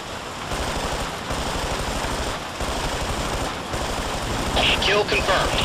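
Sustained machine-gun fire in Ghost Recon rattles on steadily for several seconds in dense rapid bursts, with a voice speaking over it.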